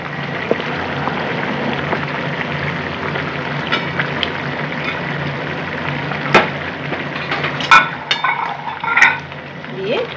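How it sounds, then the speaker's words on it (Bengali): Katla fish pieces go into a simmering onion-stalk curry, giving a steady bubbling sizzle with a few sharp clinks and splashes of utensil against the pot near the end, close and moderate in volume. "মাছগুলো এখন দিয়ে দিচ্ছি"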